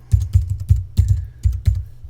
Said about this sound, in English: I could really be typing in a title here